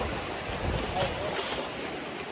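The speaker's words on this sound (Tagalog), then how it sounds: "Pero ang lakas ng alon dito, no?" Strong ocean surf pounds a wild camping shoreline where even boats struggle to cross, a steady broadband roar with wind gusts, and voices talk faintly underneath.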